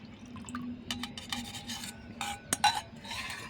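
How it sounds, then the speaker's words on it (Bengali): Milk strained and poured into a pan for malai sweets over a clay stove, heard as intermittent liquid splashes and drips with a few scraping knocks, fairly close and moderately quiet, with no talk. "দুধটা আমি ছেঁকে দিয়ে দেবো"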